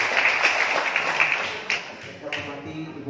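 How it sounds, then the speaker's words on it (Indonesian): Students at a vocational automotive school closing ceremony clap for a teacher, a busy patter of applause under a noisy room that fades to scattered claps by the end. "Oke, tepuk tangan pada Pak."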